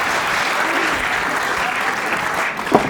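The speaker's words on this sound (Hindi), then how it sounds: "ताली बजाओ" Audience applause at a Hindi poetry recital, a dense steady wash of clapping from a large crowd lasting throughout, with a faint voice near the end.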